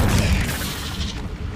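Incendio fire spell cast in Hogwarts Legacy, a loud, deep whooshing roar of flame that swells and rumbles for a moment, close and full, with no speech.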